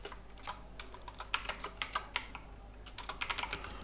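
Quick bursts of key presses on a computer keyboard, clustered taps with short pauses between, close and quiet over a low background hum, with no one speaking.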